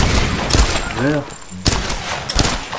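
Gunfire from a video game firearm aimed at an enemy: several sharp shots spaced across a few seconds, loud and close, with a brief tonal in-game effect between them and no speech.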